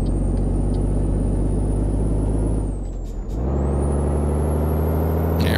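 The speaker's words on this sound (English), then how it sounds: "Hit those brakes. I love that sound of the brakes." A heavy truck's air brakes hiss in a Euro Truck Simulator 2 driving game, a sharp pneumatic release over a steady, loud engine drone that dips and then resumes.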